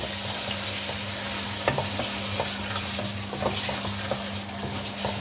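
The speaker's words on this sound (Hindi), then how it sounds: "दो 3 मिनट तक इसे अच्छे तरीके से भून लें कि ताकि दही भी इसमें भुन जाए।" Yogurt frying with mutton and spices in a pot for degi palak gosht gives a steady low sizzle, with scattered scrapes and clinks of a spoon stirring throughout, fairly close and without talk.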